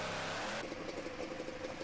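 Alcohol super stock pulling tractor at a Hamburg, NY tractor pull, its engine holding a steady roar that shifts partway through into a rougher, pulsing rumble.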